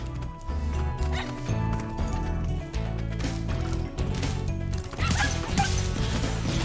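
Dogs bark and yelp during combat in the Spyro Reignited Trilogy video game, short repeated barks with crashes, set against loud continuous game music and sound effects.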